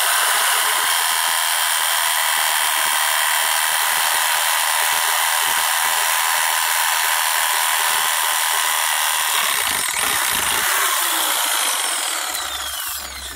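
A Bosch PSA700E electric reciprocating saw cuts through tree stumps in a garden, its motor a loud, steady buzzing drone with rapid blade chatter that runs without pause, then eases off slightly at the very end.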